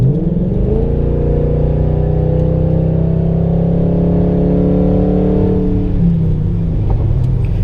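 A Ford Crown Victoria treated with Sea Foam drives past on a windy street, its engine rumble building and swelling as it nears, holding steady, then fading as it moves away, with no talking.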